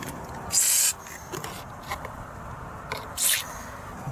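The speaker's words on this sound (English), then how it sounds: "Get a wee bit of WD on that." Short hissing bursts of WD-40 lubricant sprayed onto the rear strut and pinch bolt of a Land Rover Freelander 2, two distinct spurts about three seconds apart with quiet handling noises between.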